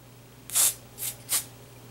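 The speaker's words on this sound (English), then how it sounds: "spray a little bit into the curls" Hairspray sprays into curled hair in three short, breathy hissing bursts, the first longest, close and crisp over a low background hum.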